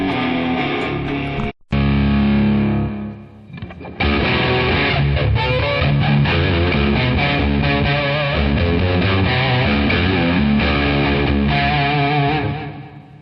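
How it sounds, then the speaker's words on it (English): Loud distorted electric guitar through a Tech 21 Fly Rig 5 playing chords and riffs with a thick, saturated tone, close and continuous after a brief break. "when you kick in the fly rig, you can get that insane distortion."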